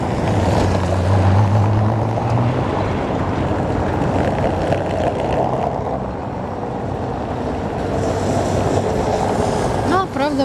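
A route 18 tram in a city square on a summer evening approaches, with a continuous low rolling rumble that swells and holds, and a short squeal of wheels near the end.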